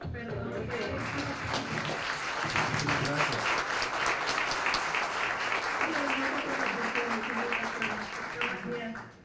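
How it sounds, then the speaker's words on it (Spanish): Applause from the audience at an investment conference session, a full, even wash of clapping lasting several seconds with some voices underneath, dying away abruptly at the end. "Vamos por favor a darle un aplauso."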